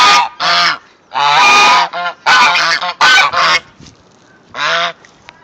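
Goose honks loudly and close up in a muddy farmyard, a series of harsh, nasal calls in irregular bursts with short silent gaps between them.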